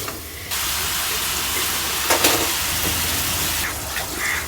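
Spices fry in a pan for a home-cooked curry, a loud, steady broadband hiss that starts abruptly after a short pause and swells near the end, with no talking.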